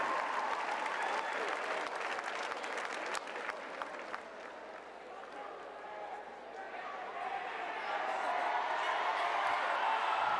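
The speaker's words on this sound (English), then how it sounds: "Let's give one more round of applause to these 50th anniversary NSAA gold medal champions." Distant crowd applause and cheering in an arena honoring 50th anniversary NSAA volleyball gold medal champions, a steady wash of clapping that swells toward the end.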